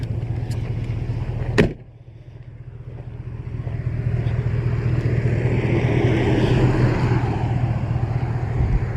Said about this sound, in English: There's another Toyota coming.